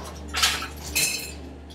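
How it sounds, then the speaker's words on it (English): Ice cubes tumble into a bar glass in two quick clattering pours, bright clinks up close over a quiet background with no talking. "fill it full of ice"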